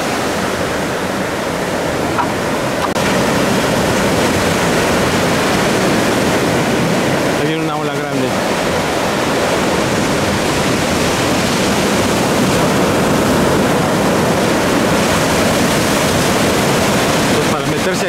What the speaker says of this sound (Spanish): Miren, aquí les muestro estas olas.